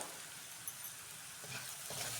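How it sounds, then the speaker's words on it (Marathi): Raw ground garlic and green chilli paste sautés in hot oil, producing a faint, even sizzle with a few soft stirring sounds near the end. "लसूण मिरची व्यवस्थित अशी तेलामध्ये छान परतून घ्यायची"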